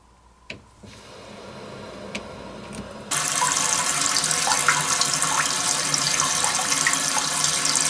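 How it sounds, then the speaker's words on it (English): After the supply line is reinstalled, water is slowly turned back on and refills a toilet tank, a faint hiss at first, then a loud, steady rushing flow nearby. "And now slowly turn the water back on."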